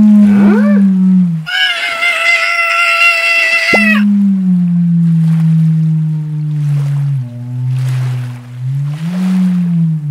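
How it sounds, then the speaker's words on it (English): A cartoon whale floating in the ocean gives a long low droning call, broken by a brighter, higher wailing cry in the middle, with soft watery swishes behind it. "It sounds like the whale has a tummy"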